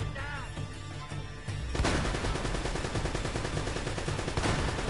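Gunfire erupts in a firefight in Uncharted 1, with a shotgun enemy among the shooters: a quiet start, then dense, rapid rattling shots that keep going to the end.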